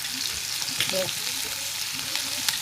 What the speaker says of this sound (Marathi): आता चांगली तापलं का आपण लगेच मोहरी आणि जिऱ्याची फोडणी देऊन देऊ।